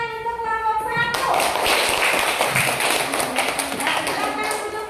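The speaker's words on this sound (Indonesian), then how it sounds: "beri tepuk tangan untuk kelompok 1" A classroom group of children claps for a team after a guessing task, a dense burst of hand claps and taps starting abruptly and continuing steadily, with young voices chattering underneath.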